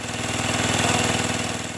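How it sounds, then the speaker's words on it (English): A prototype engine built by engineering students runs steadily and close by, a loud continuous drone with a fast, even low pulse and no talking over it. "This is a prototype engine."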